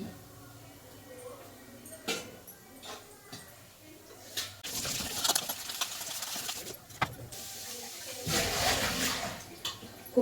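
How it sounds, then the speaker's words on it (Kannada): Intermittent water splashing and running from a tap as greens are rinsed, in bursts with quiet gaps between, close by. "ಸೊಪ್ಪುಗಳನ್ನು ತೊಳ್ಕೊಳ್ಳುತ್ತಾ ಇದ್ದೇನೆ ನೋಡಿ"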